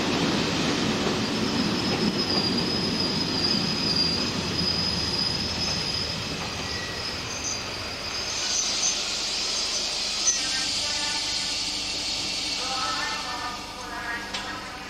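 SNCF BB 9266 electric locomotive, a French engine based at Saint-Pierre-des-Corps, passing with its train: a loud, steady rolling rumble with high wheel squeal and rail clatter as it goes by up close, no voices.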